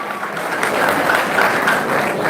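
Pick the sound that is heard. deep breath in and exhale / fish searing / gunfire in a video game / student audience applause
student audience applause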